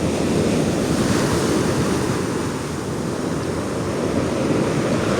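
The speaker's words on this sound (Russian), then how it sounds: "Правда, здесь большая волна все-таки." Big sea waves break steadily on the shore at Pitsunda, a loud, continuous roar of surf with rushing wash and some wind buffeting, close and without any voices.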